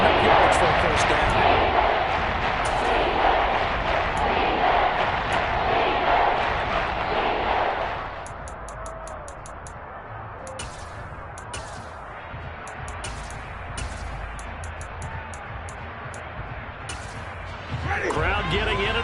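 Crowd noise from a Madden football video game, a loud broadband roar that swells and then drops back to a lower steady murmur, with brief sharper accents and a louder surge at the end.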